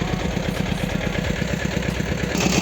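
A Kentavr 160V walk-behind tractor engine runs nearby after ploughing virgin ground, a steady close rumble with rapid even firing pulses and light mechanical clatter.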